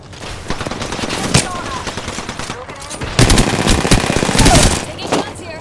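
Rapid automatic gunfire from the Conduit video game rattles in dense, loud bursts close up, continuing almost throughout with brief lulls and heavier volleys late.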